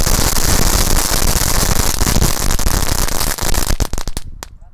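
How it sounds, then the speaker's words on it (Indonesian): Dense, rapid crackling of Indonesian crackle firecrackers (mercon pretekan, "dino egg" type) popping continuously, loud and close, thinning into a few scattered pops before stopping. "Selanjutnya di sini ada mercon pretekan atau telur dino pretek."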